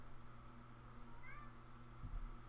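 A house cat gives a faint, brief meow partway through, set against a quiet indoor room hum with a soft thump near the end.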